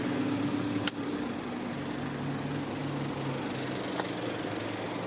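A 1996 Nissan Terrano with a TD27ETi turbo diesel intercooler engine idles with a steady, even rumble. There is one sharp click near the start and a faint tap later.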